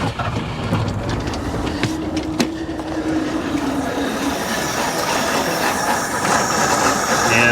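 A one-owner 1982 Ford F150 XL, left sitting since 2013, cranks with its fuel line disconnected, giving a loud, steady mechanical churn that runs unbroken for several seconds with no voices.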